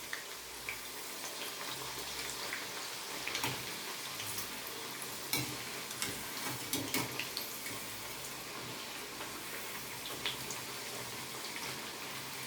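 Thattai (nippattu) frying in hot oil and being flipped, a faint continuous bubbling hiss with a few soft clicks from the flipping, quiet and close.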